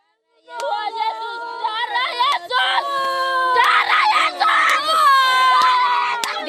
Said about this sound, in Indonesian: sejumlah ibu-ibu berteriak histeris ketika aparat kepolisian dan anggota Brimob bersenjata lengkap memaksa mereka untuk meninggalkan tempat tinggal mereka